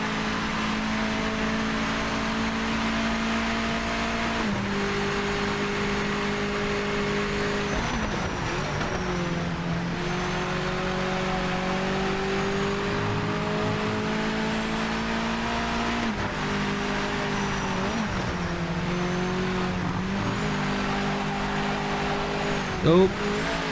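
Race car engine in the Project Motor Racing sim, revving up and shifting through gears as it runs downhill, a loud continuous drone with pitch climbing and dropping and a brief squeal, with commentary underneath.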